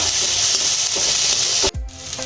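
Chopped onion, garlic and ginger fry in a pan for fish chops, a steady loud sizzle that cuts off abruptly near the end, then resumes more softly.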